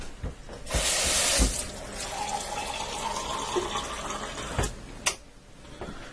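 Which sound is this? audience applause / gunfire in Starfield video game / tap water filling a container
tap water filling a container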